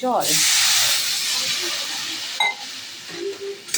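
Mango pieces hit hot oil with panch phoron spices, bursting into a loud steamy hiss that fades to a softer sizzle, with a few clinks of a utensil against the pan and voices faintly in the background.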